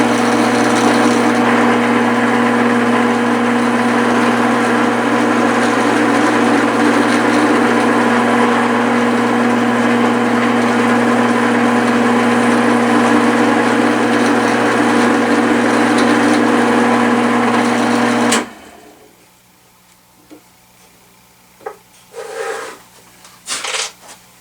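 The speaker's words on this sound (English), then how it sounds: "And now I will drill it down to my stop piece." A power drill drilling into wood gives a loud, steady motorized whine that runs continuously for about eighteen seconds, then cuts off abruptly, followed by a few faint handling knocks.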